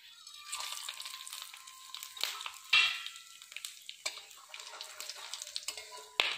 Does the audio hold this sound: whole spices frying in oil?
yes